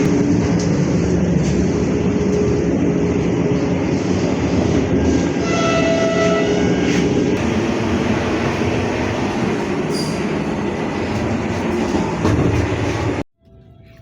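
A Vande Bharat Express train runs at speed between Agra and Khajuraho, heard as a loud steady rumble with rail clatter and a few faint tonal squeals, which cuts off abruptly near the end.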